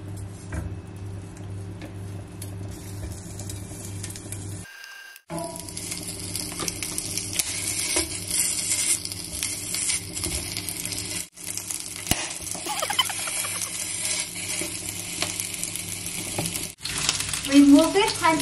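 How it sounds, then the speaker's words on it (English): Pork belly frying in a pan until golden brown for Bisaya pork humba, a constant close sizzle with small ticks and clinks of stirring, and a voice talking over it in places. "Fry the pork belly until golden brown."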